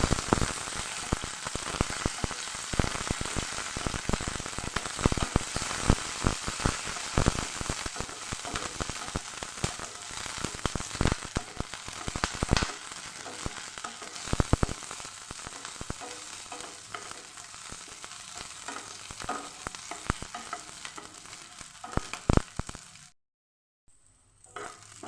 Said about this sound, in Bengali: দিয়ে দিচ্ছি রসুন আর কাঁচা লঙ্কা, দিয়ে একটু ভালো করে ভেজে নেব।